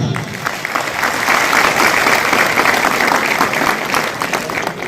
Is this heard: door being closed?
no